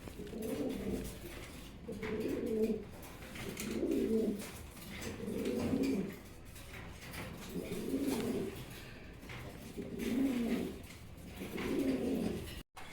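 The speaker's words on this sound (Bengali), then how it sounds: "এখানে একজোড়া কবুতর দেখতে পাচ্ছেন, বর্তমান সময়ে জনপ্রিয় কবুতর।" A pair of pigeons of a popular breed, offered for sale, coo in a steady series of about seven soft, rounded calls repeated every two seconds, close by and clear, with no talk over them.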